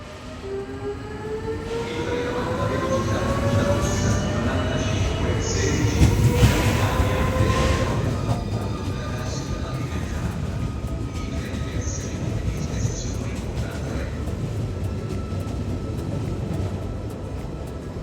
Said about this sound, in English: our train pulls away from Florence towards Benevento